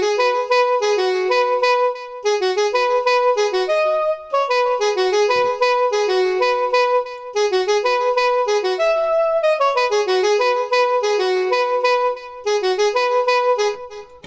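Synth tone run through KiloHearts Toolbox plugins with ping pong delay, playing a bright melodic phrase of stacked harmonic notes whose echoes trail between phrases; steady, loud and alone with no talk.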